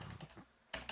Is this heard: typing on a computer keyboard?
yes